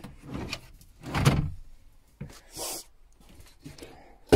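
Soft-close drawers shut in a 2016 Mercedes Sprinter high-top campervan, giving a few separate soft sliding whooshes and light thuds at close range, with quiet gaps between them.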